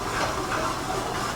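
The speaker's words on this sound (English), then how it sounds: "Just going to give the pan a little bit of a shake." A pan of sauce with peas being shaken on a stove gives off a steady, close simmering hiss and sizzle, with a faint rhythmic swish of the liquid moving, and no talking.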